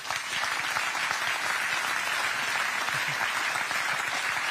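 An audience at a Hyperloop event gives a warm round of applause for the partners; dense, steady clapping fills the room at an even level throughout.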